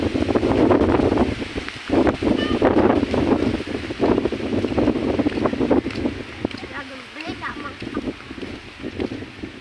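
Strong typhoon wind batters the microphone in loud, rumbling gusts, easing slightly toward the end while faint voices may be present underneath.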